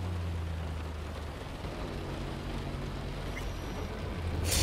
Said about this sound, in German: Gefällt mir auch, dass es regnet.